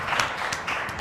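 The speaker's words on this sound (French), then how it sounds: "ça mérite des applaudissements" Applause at a high school basketball game in Senegal, a brief patch of scattered clapping over a noisy crowd background, moderately loud.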